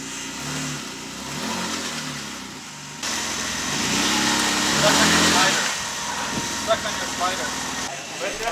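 An off-road vehicle's engine revs and strains while breaking a new desert trail in Johnson Valley, California, rising and falling throughout with rattling and rough knocks over the ground, close by, with voices at times.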